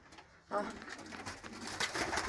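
Soft pigeon cooing repeats a few times close by in a coop, with faint muffled voices in the background.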